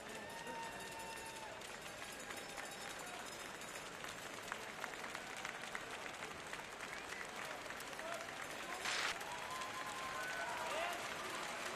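At a men's world curling championship, a distant arena crowd cheers and applauds as a match ends, with a broad, sustained roar under faint background voices.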